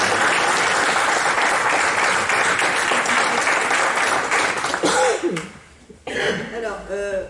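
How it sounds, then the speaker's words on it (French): Applause from the audience at a public meeting, dense and steady for about five seconds before fading out, followed by a voice speaking. "je pense qu'on peut les applaudir"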